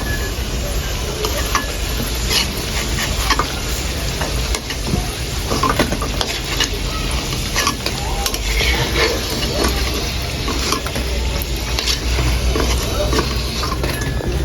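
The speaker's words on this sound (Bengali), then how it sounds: "বাকিগুলো এভাবে ভেজে নেব" Palm fruit pitha cakes fry in hot oil with steady crackling sizzle and occasional stirring clatter, close and continuous throughout, with faint background voices.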